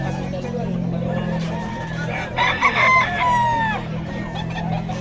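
Roosters for sale at a seller's stall crow loudly close by, one prominent crow rising mid-clip over steady market chatter and a low background hum, with people talking throughout.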